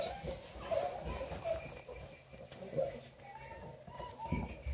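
Redbone Coonhound puppies about six and a half weeks old give a few soft whimpers and yips mixed with rustling and nearby talk.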